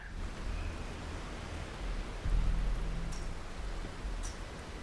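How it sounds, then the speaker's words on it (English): Steady rain in the video game Starfield, a soft even hiss of falling drops that holds across the whole stretch, with a low rumble swelling partway through and a couple of faint high chirps. "Oh, lovely and rainy today."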